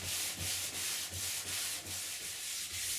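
Rhythmic back-and-forth sanding strokes rasp across a varnished kayak surface, roughly three per second, close and steady with no talking.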